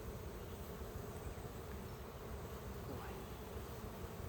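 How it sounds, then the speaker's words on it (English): Honey bees from a very strong hive hum in a steady, dense drone around the open boxes during an inspection, faint and continuous, with a brief spoken word. "crazy, all them freaking bees"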